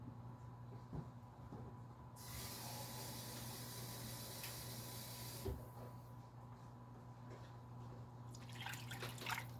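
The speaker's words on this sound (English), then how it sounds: "Fill this up with water." Water rushes steadily from a tap into a can for a few seconds, a broad hiss over a constant low electrical hum.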